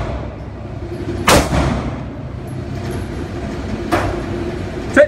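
Gunshots from an EDA/ECK shooting system: two sharp, loud reports about two and a half seconds apart, each with a trailing echo, plus a clipped bang at the end, over outdoor background noise.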